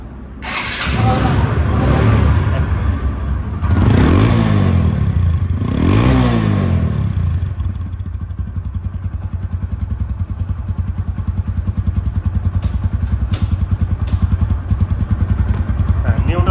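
A secondhand TVS Apache RTR 160cc 2V motorcycle engine runs steadily nearby, revving twice early on before settling into a rumbling idle.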